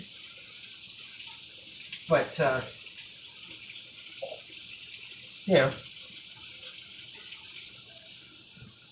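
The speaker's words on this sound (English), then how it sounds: "this is just a clean cup I'm using just to fill up with water." Tap water runs into a clean cup in a home kitchen during sourdough bread prep, two short pours a few seconds apart, close and clear, with someone talking briefly between them.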